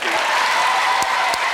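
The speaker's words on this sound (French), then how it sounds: "Pourquoi ils applaudissent dans le public comme ça?" TV studio audience applauding on a French game show, dense continuous clapping filling the whole moment at close, loud level with a couple of sharper claps standing out.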